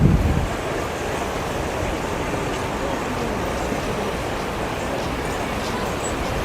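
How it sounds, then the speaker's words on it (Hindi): Strong waves churning on the Ganga river at Haridwar, a dense, continuous rushing roar of fast water with wind buffeting the microphone, steady and loud from start to finish. "देखिए किस तरह से तेज लहरें निकल रही है।"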